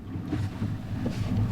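Strong easterly wind buffets a small sailboat beating to windward in the Arctic, with two panels set; a steady, close rumble of wind noise on the microphone mixes with low hull and water sounds throughout.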